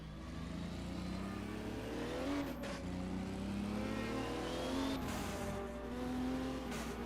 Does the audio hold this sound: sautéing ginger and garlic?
no